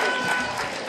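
An audience at a local talent show applauds a singer from Civita Campomarano, a steady wash of clapping that fills the short moment from start to end.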